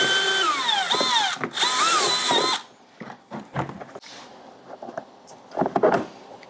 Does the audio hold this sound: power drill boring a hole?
yes